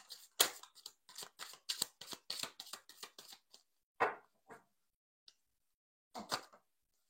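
Tarot cards are shuffled by hand in a quick run of crisp, close riffling snaps, and then one card is drawn with a few softer slides and taps after a pause.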